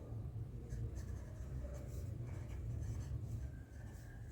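Marker writing on a board during a maths lesson: faint, soft scratching and squeaky strokes in quick short bursts against a quiet room hum.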